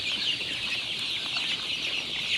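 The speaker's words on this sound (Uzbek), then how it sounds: "Andijon qora jo'jalari sotiladi." Continuous chirping and peeping of young Andijan black chicks, about 40 days old, steady and fairly close, with no talking.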